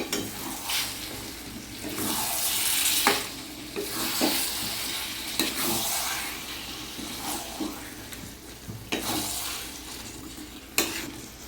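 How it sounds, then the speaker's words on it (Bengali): Chicken pieces sear and get stirred through oily spice masala for a Bengali chicken curry: a continuous frying sizzle punctuated by repeated scraping stirs and spatula knocks against the pot, close and fairly loud. "মাংসটা ভালো করে কষিয়ে নেবো।"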